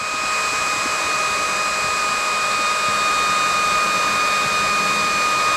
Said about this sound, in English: this is one of the few times I've done this by hand with a hand drill